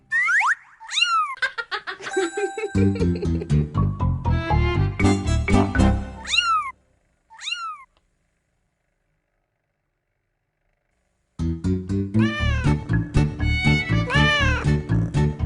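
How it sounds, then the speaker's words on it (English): Kittens meow in bursts of short rising cries, several overlapping with an upbeat backing tune, then a long silent gap before the meows and music return. "Carlos has 2 kittens."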